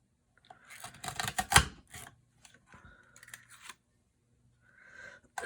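Scissors snipping through paper during a craft project, with a cluster of crisp cuts and rasps close by, then quieter scattered snips and rustles after short pauses.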